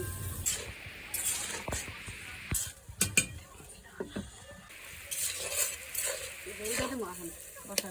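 Potatoes and tilapia fish stir-fried together in a pan with Malabar spinach, giving a soft sizzle with irregular scraping and clinking of a utensil against the pan, near and moderately loud, with no talking.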